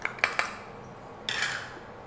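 Spoon clinks against a bowl as corn kernels are mixed with red chili powder and salt: three quick taps, then a brief scraping stir, all faint and close by.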